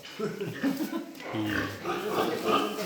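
Pigs grunt in a pig pen, close by, with a few short, low grunts and snorts at moderate loudness and faint voices in the background.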